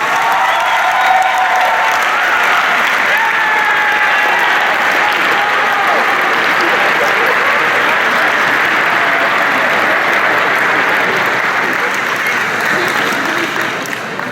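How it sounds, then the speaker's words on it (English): An audience at a faculty service awards ceremony at Wilbraham & Monson Academy claps steadily for a staff member marking ten years of service. The dense applause is loud and sustained for the whole stretch, with faint crowd murmur underneath, and it tapers slightly at the end. "Let's clap for him for 10 years of service"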